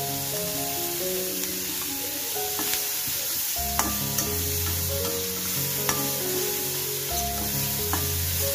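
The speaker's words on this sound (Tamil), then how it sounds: "இப்போ இந்த குடமிளகாய் போட்டு நல்லா மிக்ஸ் பண்ணி விட்டுடலாம்." Capsicum being stirred into cooked rice in a hot pan, with a continuous loud sizzle and repeated scraping and tapping of a spoon against the pan.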